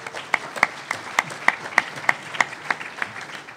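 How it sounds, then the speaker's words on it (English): Applause at a talk on Chicago's economic future: a few distinct, evenly spaced claps, fairly faint and brief, from a sparse audience. "now give him a round of applause"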